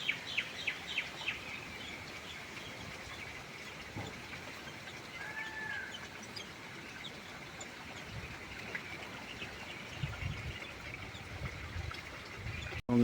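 Sparrows bathing in water on a wet garden plant at midday give faint, scattered chirps over a soft background hiss and trickle, fairly distant.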